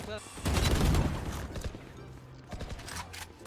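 Bursts of gunfire ring out in a shooting video game, with a loud volley early on followed by scattered shots and clatter, mixed with players talking.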